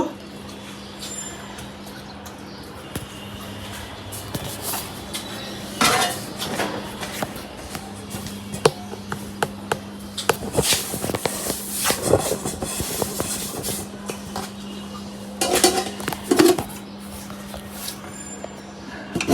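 Pots and dishes clatter and clink nearby as an egg pudding is covered and weighted with a heavy grinding stone for steaming, in irregular bursts of metal and ceramic knocks over a low steady hum, with someone talking at times.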